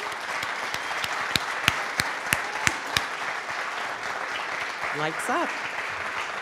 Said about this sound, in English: let's start out with a big round of applause to the community and to all of you